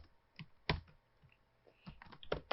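Python code typed on a computer keyboard, a few sparse close key clicks in small bursts with pauses between, quiet and with no talking.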